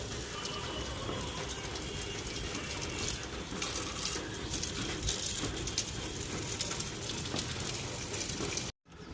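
A homemade pressure spray gun shoots a water jet for cleaning solar panels, making a steady, close hiss that runs for several seconds with no voices. It cuts off abruptly at the end.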